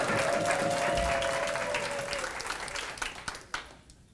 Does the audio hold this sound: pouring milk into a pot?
no